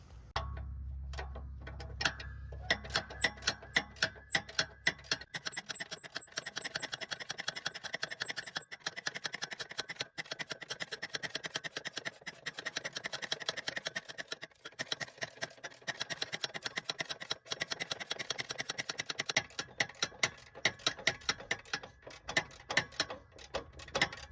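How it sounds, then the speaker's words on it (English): Steady, rapid ratcheting clicks from a wrench loosening the track tensioner on a Dingo TX 1000 compact utility loader, a continuous dry ticking rhythm close up, preceded by a brief low hum. "Now I'm going to loosen this tensioner some more."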